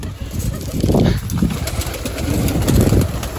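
Pigeons crowd close around scattered feed, their soft cooing mixed with bursts of flapping wings and scuffling, loud and near throughout.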